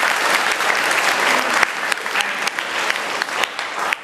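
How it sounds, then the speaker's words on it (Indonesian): Students at a motivation training session clap together in loud, steady applause, with some sharper individual claps popping out as it continues without pause. "Tepuk tangan dulu dong."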